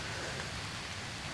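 Steady, dense rain pours outdoors during a deer hunt, a constant hiss of drops falling heavily on surrounding surfaces, even and unbroken throughout.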